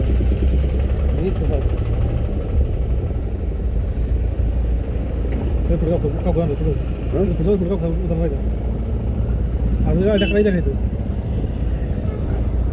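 A car engine idling in a steady, loud low rumble close by, while people talk over it at several points.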